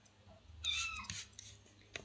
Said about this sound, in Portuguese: Minha gata está miando.